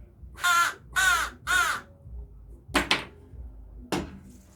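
Several loud, close crow caws in a burst of three, then a short pause and two or three more sharp calls, with no voices.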